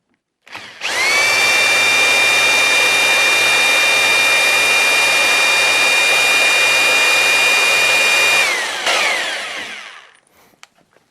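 A powerful handheld power tool spins a car alternator: a loud, close, high-pitched whirring drone starts abruptly, holds steady for about eight seconds, then winds down and cuts off with a few small clicks.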